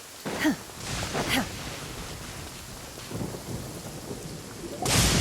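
Video game thunderstorm with rain: faint, steady rainfall broken by a couple of thunder cracks early on, a low rumble in between and a sudden broadband burst at the end.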